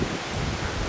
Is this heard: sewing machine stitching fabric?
no